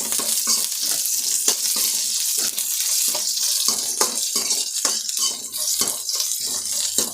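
Onions frying in a pan while a Telugu tamarind dal dish is cooked, a steady close hiss with scattered clinks and stirring scrapes throughout.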